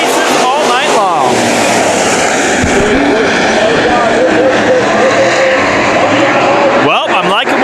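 IMCA modified race cars roar off at the start of a heat race at Bakersfield Speedway, a loud, dense wall of revving engines sweeping past with rising and falling pitch throughout.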